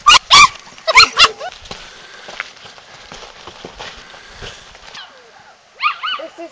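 Street dog and puppies at a landfill near Rudozem: a burst of loud barks and yips opens the sound, then a quieter stretch of soft whimpers and faint movement, before a final cluster of high puppy whines and yelps.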